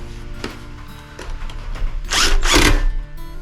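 Tightening bolts on a Jeep Gladiator's Rough Country cold air intake, close mechanical ratcheting clicks followed by two louder bursts of a power tool.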